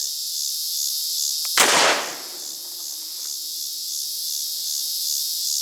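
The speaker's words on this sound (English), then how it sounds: "This time I think I can shoot it through the chronograph without hitting the sunshade." A single sharp gunshot from a Pedersoli Philadelphia Deringer fired through a chronograph outdoors, one loud crack with a short decaying tail over a steady background of chirping crickets.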